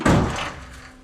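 A door on a rusty, rare Pontiac station wagon swings open with a single close, loud creak and thud that quickly fades into a low hum.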